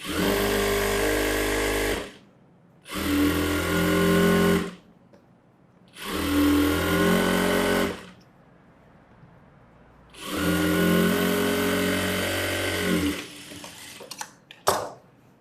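A sewing machine stitches a gathering pant in four separate runs of roughly two to three seconds each, its steady motor whirr stopping and restarting between them, loud and close, with a few small clicks at the end.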